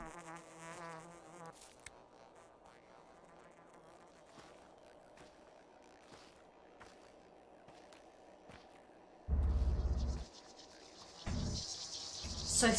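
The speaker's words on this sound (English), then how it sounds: "the flies buzzing is for the more common herbs" Faint fly buzzing in the game Pathologic 2, marking common herbs, hovers over quiet game ambience, broken by a few louder bursts of sound near the end.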